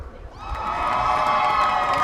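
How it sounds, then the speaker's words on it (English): A crowd at a spring university commencement ceremony breaks into loud cheering and whooping, swelling quickly and holding steady for a couple of seconds in a large hall. "Big cheering section."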